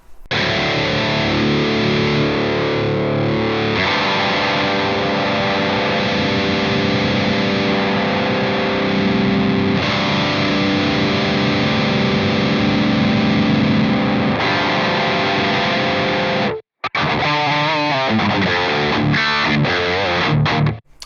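Heavily distorted electric guitar played through a Brainworx ENGL Savage 120 amp plugin, loud and continuous chugging riffs and sustained chords with a brief dropout near the end before the playing resumes.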